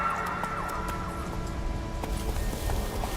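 Roach the horse gallops in The Witcher 3, a rapid run of hoof clip-clops under a low game soundscape with a faint tonal wail.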